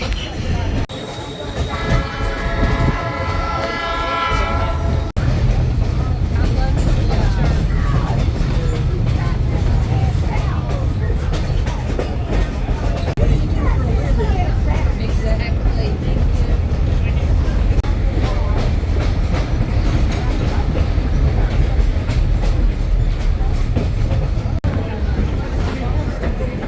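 A Blue Ridge mountain train rolls slowly along its tracks, heard from inside a car with openings underneath, giving a steady, loud rumble and rattle throughout with a brief tonal squeal near the start.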